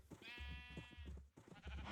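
Sheep bleat in a farming video game, one long wavering cry in the middle, loud and close, with short low thuds from the game in the background.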